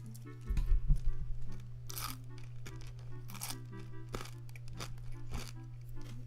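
Someone crunches a handful of chocolate candies close to the microphone, with repeated sharp crunching bursts spaced irregularly over a steady low hum, loudest near the start.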